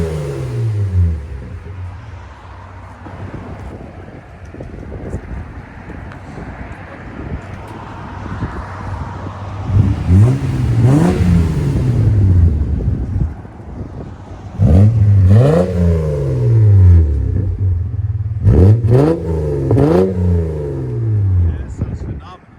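A 1997 Lexus LX 450 4.5L inline-six with a Borla ProXS muffler rumbles deeply and revs several times at about 91 decibels, rising and falling in pitch, loud and close, with wind buffeting and people talking over it.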